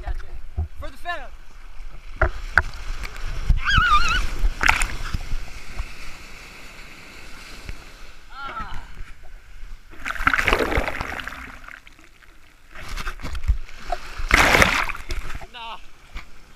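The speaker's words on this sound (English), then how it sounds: "Catching the little baby waves." Small ocean waves break and wash in the surf at Venice Beach, with splashes and sloshing water swelling in a few surges, while people nearby shout and talk over the sound.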